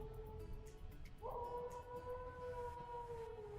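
A distant wolf howls outdoors during a photography shoot, a faint, long rising wail that steadies and holds over low background rumble.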